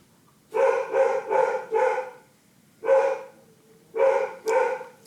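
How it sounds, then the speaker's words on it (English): A dog barks loudly in close, sharp bursts: a quick run of four barks, a pause, one bark, then two more, with quiet between. "Let's just see why the dog is barking so vociferously."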